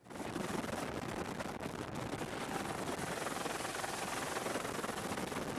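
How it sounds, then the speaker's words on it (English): A rescue helicopter roars close by over the East China Sea, its dense rotor chop and engine noise steady and loud throughout, with no voices. "A helicopter was able to rescue 5 sailors from a lifeboat."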